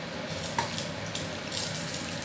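Oil splashes over smouldering charcoal set in a pot of rice mandi, a steady wet hiss and sizzle with a few brief bright spurts, close by and with no one speaking.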